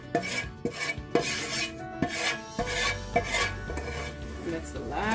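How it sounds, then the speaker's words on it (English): A utensil scrapes the last green chilli shrimp masala from the bottom of a pan, with repeated short rasping strokes in an irregular rhythm, close and fairly loud against a faint background hum. "that's the last of the masala scraped off the bottom of the pan"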